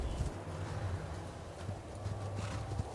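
Mongol horse hooves from an Age of Empires IV cutscene clop in a steady, even rhythm throughout, moderately loud under a low rumbling bed.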